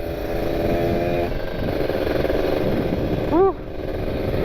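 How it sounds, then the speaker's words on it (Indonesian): An RR motorcycle engine with an open air filter rumbles steadily with a throaty exhaust note, and a brief rising-falling whine appears near the end. "Udah lama nggak dengerin knalpot sendiri nih."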